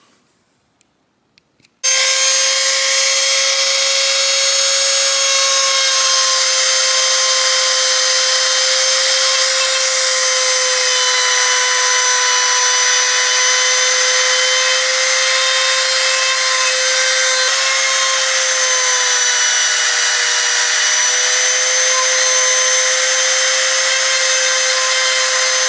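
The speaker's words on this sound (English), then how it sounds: "The perils of having a corded router." A corded power router cuts wood for a door jamb, starting abruptly after a brief quiet moment and holding a loud, steady, high-pitched whine that runs unbroken to the end.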